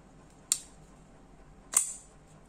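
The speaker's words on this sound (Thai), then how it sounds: "เป็นมีดพับแบบเปิดเร็วนะครับ" A Jeep brand quick-opening folding knife with a liner lock clicks open twice, each a sharp, close metallic snap about a second apart over quiet background.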